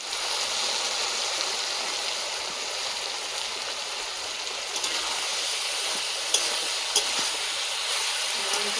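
Curry sautéing in a pan on a new stove gives a steady, close, hissing sizzle throughout, with a few faint clinks of stirring and no talk.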